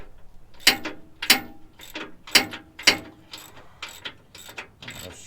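Skid plate bolts on a Chevrolet Colorado ZR2 tightened with a ratchet, a series of crisp close clicking bursts in a steady rhythm, quieter toward the end.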